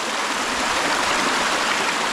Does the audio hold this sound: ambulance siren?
no